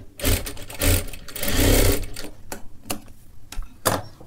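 A sewing machine stitches sleeve fabric in close, loud bursts of rapid needle chatter, one longer run in the middle, then a few short separated clicks and stitches without talking.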